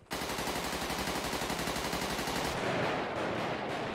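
Rapid automatic gunfire in the GTA video game, a loud, fast rattling burst that runs continuously for several seconds before thinning into a rougher, more scattered volley near the end.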